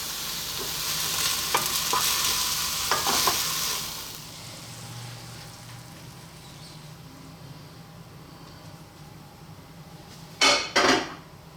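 Kale with green onions is stirred in a hot pan, utensil scrapes and sizzling for the first few seconds, then a quiet, low simmering hiss, ending with two sharp clanks of metal against the pan.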